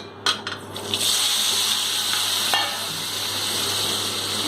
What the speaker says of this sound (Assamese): মই এতিয়া পনীৰখিনি দি দিছোঁ